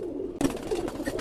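Pigeons coo in a loft, a soft, close, repeated throaty burbling that starts abruptly and carries on over a low hum of background noise.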